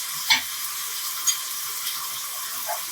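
Sweet pumpkin and prawn curry cooking in a pan over raised heat, a soft continuous sizzle with a few brief stirring knocks, close and without speech.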